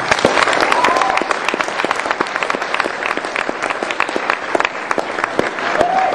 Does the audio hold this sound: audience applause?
yes